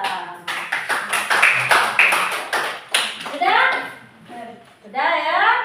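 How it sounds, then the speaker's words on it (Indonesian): A classroom group gets rhythmic clapping from pupils, first a quick patter of claps, then children's voices chiming in over and between the claps. "Kasih aplaus untuk kelompok 2."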